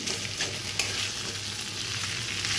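Shrimp and snake gourd frying together in a pan, a steady, close sizzle with soft stirring scrapes and occasional louder crackles.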